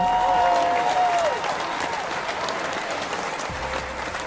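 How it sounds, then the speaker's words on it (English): Studio audience applause at the opening of an astrology talk show, a dense, steady wash of many hands clapping that swells loud at first and then eases off slightly but keeps going throughout. "Thank you so much for the applause"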